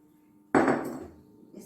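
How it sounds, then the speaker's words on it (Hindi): A single solid metallic clunk of a pressure cooker lid being set and closed, close up, after a quiet moment, followed by a brief faint rattle. "और प्रेशर कुकर को मैं बंद करूंगी।"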